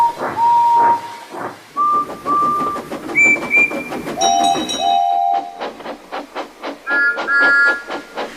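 Steam train whistles sound in a series of shrill, shifting-pitch blasts over rhythmic chuffing that speeds up, loud and fairly close.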